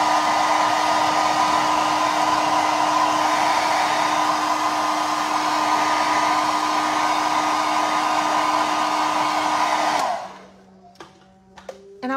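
Hair dryer blowing on a freshly painted furniture finish: a loud, steady motor whine and airy rush that runs for ten seconds, then cuts off, leaving faint handling clicks.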